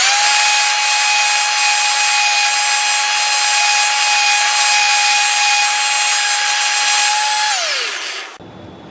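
An epoxy and wood cutting board is sanded with 60 grit sandpaper on a power sander, a loud continuous steady whir with a constant high tone that winds down and stops near the end.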